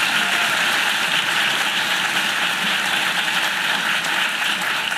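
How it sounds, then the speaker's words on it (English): An audience at a congressional event fills the room with continuous applause, a dense, even roar of clapping that holds at constant loudness from start to finish with no speech over it. "Let's give them a round of applause."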